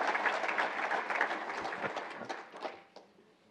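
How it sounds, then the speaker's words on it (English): An audience at a university celebration of excellence applauds seniors, a dense wash of clapping hands from a sizable crowd that holds steady and then tapers off over a few seconds. "let's give our seniors a round of applause for all their hard work"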